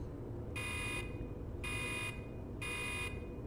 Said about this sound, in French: Je voulais pas faire sonner une alarme.